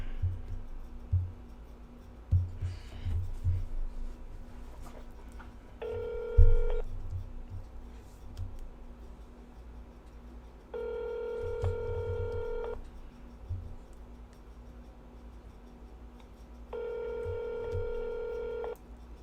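A phone number is keyed on a telephone keypad as a quick series of touch-tone beeps, followed by three long ringback tones spaced several seconds apart, with faint background noise and brief voices between them.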